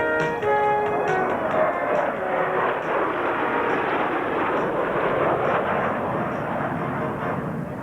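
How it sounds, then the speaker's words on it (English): Thunderbird jet aircraft at a 1995 Knoxville, Tennessee air show, one flying inverted beside Thunderbird 6, make a loud, steady jet roar that washes over the crowd for several seconds without letup. "Rolls on his back to fly inverted next to Thunderbird 6."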